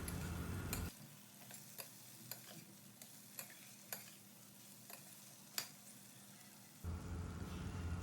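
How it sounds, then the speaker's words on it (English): Fried bhindi and onion being stirred with masala in a pan, with a quiet sizzle under a series of light, evenly spaced spoon taps and scrapes, framed by louder bursts of background noise at start and end. "we will stir and mix the bhindi with the masala so that they are well combined"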